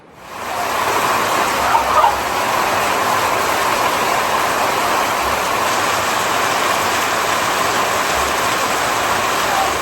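Heavy rain pours steadily over a flooding pond and creek, a dense, continuous wash of falling water and rushing flow that stays loud and even throughout, with no voices.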